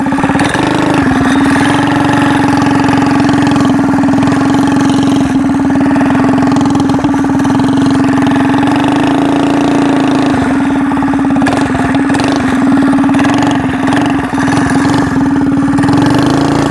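A stationary engine mounted on a motorized skateboard runs steadily and loud and close, holding a constant droning hum with slight fluctuations throughout, no voices.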